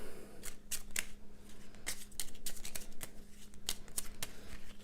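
A deck of cards being shuffled during a board game gives a run of quick, crisp riffling snaps and flutters in irregular bursts, close and fairly quiet, with no talking.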